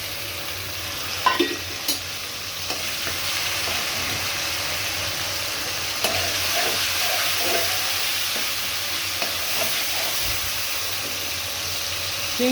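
Large shrimp frying in oil with chopped onion in a wok, a steady close sizzle with scraping stirring strokes throughout and an occasional clatter of the utensil, no talking.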